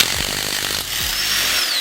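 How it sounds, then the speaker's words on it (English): A power tool whirs and rattles in short bursts as it takes the lug nuts off a Jeep XJ Cherokee wheel, loud and close, with no talking. "So I'll go ahead and remove the lug nuts."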